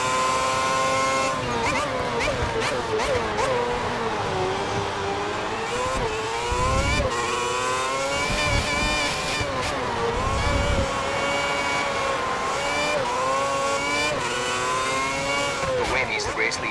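A Formula One race car in the video game F1 2010 at Catalunya drones with a continuous high-pitched engine whine that rises and falls as it slows into the pit lane, loud and close throughout, with a commentator talking over it.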